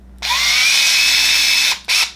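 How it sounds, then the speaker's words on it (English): A power drill whirs loudly and steadily while driving a screw into gas appliance vent piping, runs for about a second and a half, stops briefly, then spins again in a short final burst. "I'm going to just take my drill and let's get it in here."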